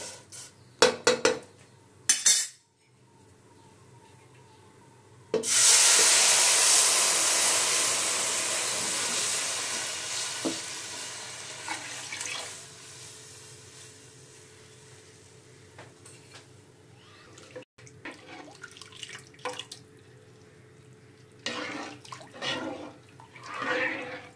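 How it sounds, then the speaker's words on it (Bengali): Milk poured into a pan of semolina payesh, a loud steady rush of liquid starting sharply and gradually tapering over several seconds, followed by scattered clinks of utensils against the pan. "এবার আমি দুধটা ঢেলে দেবো।"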